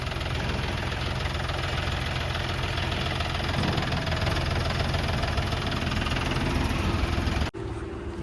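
A John Deere 5105 tractor engine idles steadily up close, a continuous low rumble with mechanical knocking that runs unbroken before cutting off abruptly near the end.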